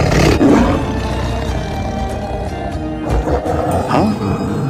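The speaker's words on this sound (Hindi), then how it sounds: "ये उसी बाघिन की आवाज है" A tigress gives a loud, drawn-out growling roar that swells and fades over several seconds, with a sustained tonal background underneath.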